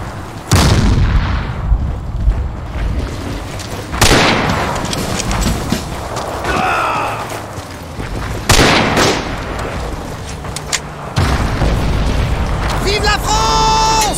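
Grenades explode in the Battlefield 2 mod Forgotten Hope 2 on the Flavion map: about four heavy booms, each with a rumbling tail, spaced several seconds apart over game noise, with voices talking.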